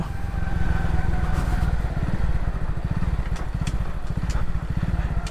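A Victory 100cc motorcycle engine runs steadily up close, its rapid firing pulses forming a continuous mechanical chug with no speech.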